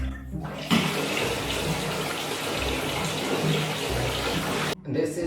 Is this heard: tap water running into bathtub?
yes